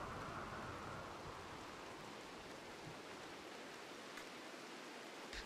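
Steady rain falling in the RimWorld video game, a soft, even hiss of rainfall that stays faint and unbroken throughout, with no voices.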